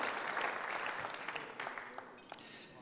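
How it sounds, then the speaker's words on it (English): Audience applause at an engineering awards ceremony for a schools F1 national final, sustained and moderately loud, then tapering off with a few scattered claps. "please, could you keep the applause going"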